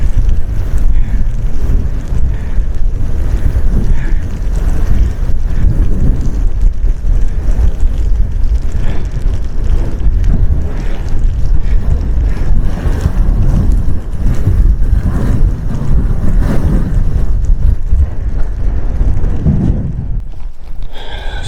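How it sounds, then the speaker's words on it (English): Strong wind roars and buffets the microphone without letup on Watson's Dodd summit in the Lake District's Eastern Fells, loud and close throughout. "but it's very, very windy."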